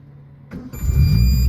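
A car engine fitted with an aftermarket exhaust cranks briefly after a quiet moment, then catches and roars up to a loud, steady idle close by.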